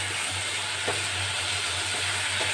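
Bitter gourd sautéed in oil with mustard paste, coriander and cumin powder hisses and sizzles in a steady, close-up frying wash, with a few faint stirring scrapes and no talking.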